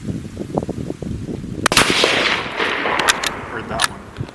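A single sharp gunshot from a Tikka T3 laminated stainless rifle cracks out loudly and close, followed by a long rolling echo across an outdoor range, with faint voices or noises before the shot.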